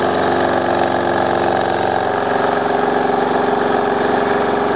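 A live steam model boat engine running at its working speed, giving a steady, even mechanical chugging purr that stays loud and constant throughout with no voices.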